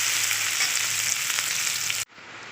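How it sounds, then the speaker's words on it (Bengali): A large chopped onion sizzles loudly in hot oil in a pan after the tempering, a steady, dense frying hiss that cuts off abruptly near the end, leaving only faint quiet. "আমি গোটা একটা বড় সাইজের একটা পেঁয়াজ কুচনো দিয়ে দিলাম। এটা ভেজে নেব একটু।"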